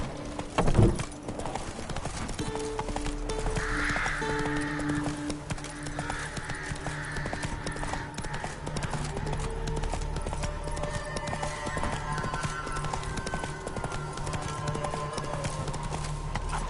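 Roach the horse trots with steady clip-clop hoofbeats, and a neigh bursts out near the start, in a video game; hooves and ambient tones run throughout with no speech.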